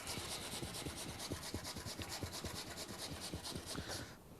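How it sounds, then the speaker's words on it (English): A potato is grated on a box grater in quick, even scraping strokes, a close, steady rasping rhythm that continues for several seconds without speech. "So we'll grate this potato up."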